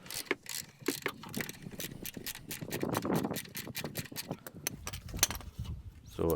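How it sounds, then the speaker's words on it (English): A ratchet working loose a 16mm nut on the front control arm of a BMW E46 320d, giving quick repeated clicking bursts and metallic ticks, fairly close and with no talk. "just take this bottom nut out first of all, then take out the top nut"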